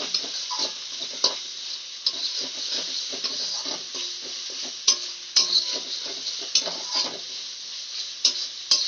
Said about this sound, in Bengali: আমার এই মশলাটা কষতে থাকুক,